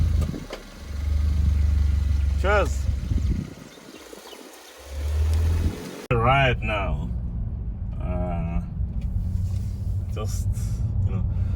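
A Kia Cerato Koup's engine idles with a low, steady rumble, then revs and pulls away as the car sets off on a drive; a person talks briefly over the engine.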